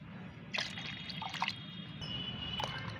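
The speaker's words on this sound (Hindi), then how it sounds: "तो अब हम इसमें पानी मिलाएंगे।" Plain water splashes and trickles into a plant fertilizer mixture in a container, a soft, steady pour with small drips and splashes and no talking.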